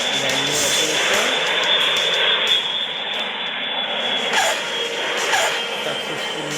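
A Sukhoi Su-35 Flanker jet in a video game comes in to land on an aircraft carrier, its engine a loud, steady roar with a high whine that carries on throughout.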